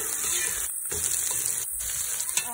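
Sliced onions for chicken pulao, salted, frying and browning in a pan, giving a steady close sizzle with two brief gaps, where the sizzle drops out as the onions are stirred.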